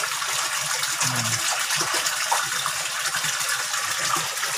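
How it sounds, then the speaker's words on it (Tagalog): Water gushes steadily into a container holding koi fish at a backyard pond, a close, continuous splashing pour with no talk. "Lagyan natin ang konting tubig."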